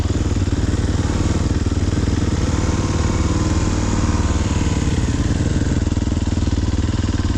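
A 2023 Sherco SEF300 four-stroke dirt bike engine runs hard and loud, a steady buzzing drone as the rear wheel spins out on loose ground, close and continuous throughout.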